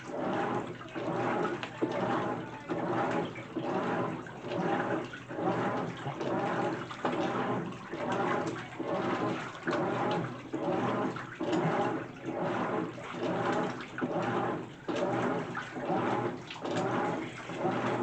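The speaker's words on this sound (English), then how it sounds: "when the tub moves, the water kind of splashes a very little bit" A GE top-load washing machine agitates clothes in water on a normal cycle, making rhythmic sloshing surges roughly every second, each swish rising and falling in a steady repeating pattern.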